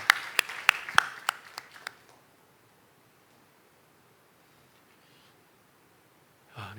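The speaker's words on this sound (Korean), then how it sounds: "우리 주님께 감사의 박수를 드리겠습니다" A church congregation claps in thanks during a Korean Wednesday service, with a burst of sharp, separate claps over about two seconds before it falls to quiet room tone.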